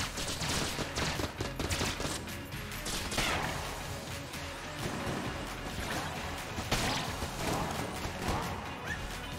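Rapid, continuous gunfire from the laser gun in the roguelike shooter Enter the Gungeon, a dense barrage of loud, crackling shots and impacts running throughout with little pause.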